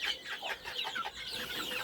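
Small bantam chickens cluck and murmur close by in a steady stream of soft, overlapping calls with no talking.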